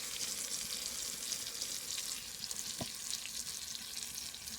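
Spice paste of turmeric, meat masala, Kashmiri chilli powder, cumin and coriander powder sizzles and fries steadily in a pan for chicken ghugni, a continuous close hiss with a faint stir clink midway, no voices.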